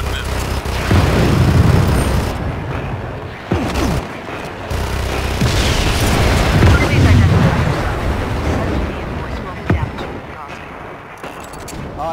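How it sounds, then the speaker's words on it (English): Homing missile explosions in the video game Just Cause 3, loud booming blasts and rumbling detonations repeating across the stretch, layered with game music and effects. "User can shoot a very empowered homing missile."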